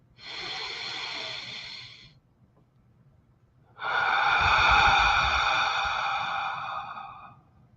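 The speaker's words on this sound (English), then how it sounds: "Deep inhale again." Two deep inhalations through the nose during a breathing exercise at a sound and chanting workshop, the first shorter and softer, the second longer and louder with an airy rush, heard close with no talking.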